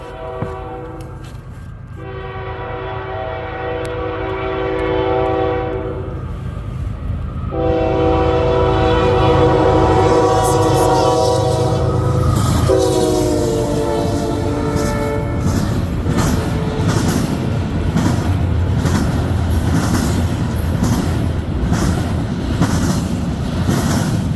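CN freight train M357, led by locomotive 2967, rolls past at close range at Ladysmith, Wisconsin, sounding several long, loud horn blasts over a steady rumble of wheels and cars.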